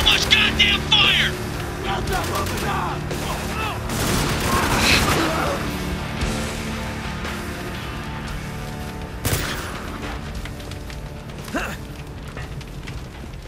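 Heavy gunfire in the war shooter Spec Ops: The Line on Xbox 360: dense bursts and booming blasts pile up loudly through the scene, with shouting voices over the combat noise.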